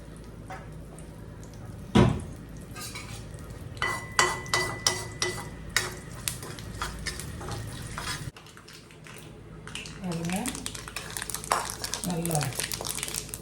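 Mustard seeds, urad dal and curry leaves are stirred in hot oil in a pan, with metallic scraping and clinks over a steady sizzle, one loud clang early on; someone talks throughout.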